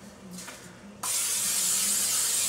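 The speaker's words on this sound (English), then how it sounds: "we're going to spray the pan" Cooking spray hisses onto a baking pan in a bakery kitchen, a faint short puff first, then one loud, steady continuous spray of about a second and a half, close up.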